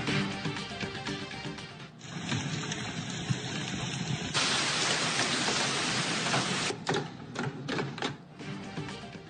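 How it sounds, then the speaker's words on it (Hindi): Heavy monsoon downpour hammering steadily and densely on surfaces, a loud continuous wash of rain with shifting intensity and no voices. "5 से ज्यादा सूबों में मूसलाधार बारिशों का सिलसिला जारी।"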